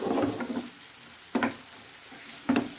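Boiled eggs frying in a pan of spicy masala, a steady sizzle with three sharp bursts of stirring and turning, close and alone.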